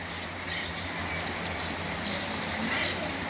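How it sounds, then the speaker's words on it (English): Sparrows chirping in short high bursts over steady background noise, with a low hum underneath. "this is the sound of sparrows"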